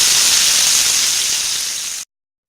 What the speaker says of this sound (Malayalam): കടുക് പൊട്ടിക്കഴിയുമ്പോൾ കറിവേപ്പില ആഡ് ചെയ്യുക.